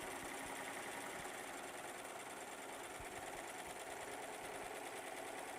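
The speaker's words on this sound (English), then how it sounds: "I just take a little piece of fabric like I got right here, and I stitch it" A serger sewing machine stitches a small fabric sample, a fast, steady mechanical whir and rapid needle chatter running unbroken and close, with no voices over it.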